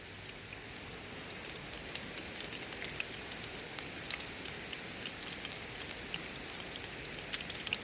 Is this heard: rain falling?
yes